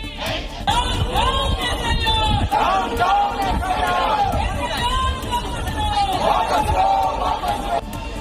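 Opposition MPs gather as a crowd outside Parliament in Delhi, making a steady, loud hubbub of many overlapping voices, with shouted calls rising above the babble throughout.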